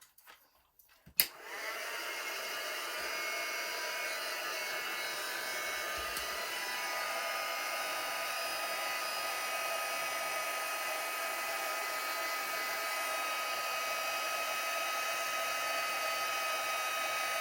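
After a brief click, a heat tool setting embossing powder on a card switches on and blows with a steady, high-pitched whirring hiss that continues unchanged throughout.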